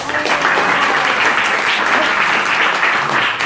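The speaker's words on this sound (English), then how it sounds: "Give Lee a big round of applause." An audience at a Sunday spiritual talk gathering gives a newcomer a warm round of applause, a thick, continuous wash of close clapping at a steady loud level for a few seconds.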